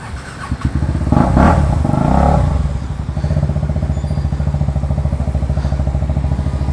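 KTM motorcycle with its exhaust removed, revving loud and raw: a sharp throttle blip swells and falls, then the engine settles into a rough, rapid, throbbing idle with crackly pulses, close by and alone.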